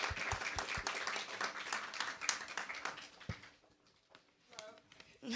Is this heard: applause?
yes